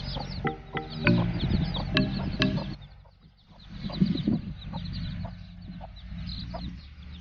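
Mother hens cluck softly nearby in short, repeated bursts beside their chicks, with a few sharper calls early on and quieter clucking continuing after a brief lull.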